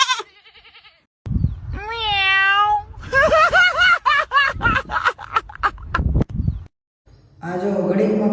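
A man mimics a cat's meow with drawn-out, wavering vocal cries, alternating with goat-like bleats and other voice sounds, loud and close, in a comedic roast setting.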